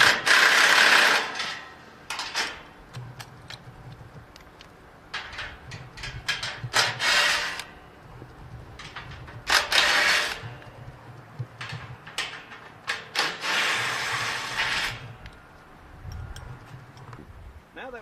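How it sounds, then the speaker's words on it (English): Bolts on a go-kart crate loosened and spun out with a 14mm wrench and socket, bursts of ratcheting clicks and metal handling recurring through the clip with quiet gaps between. "You'll need a 14mm wrench and socket to take the bolts off."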